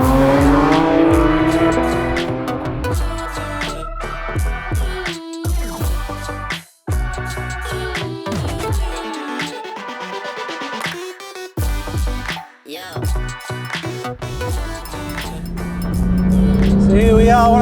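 Porsche 992 GT3 sports car driven hard on an open road, its high-revving engine climbing and dropping through gear changes with brief lifts off throttle, loud and close throughout.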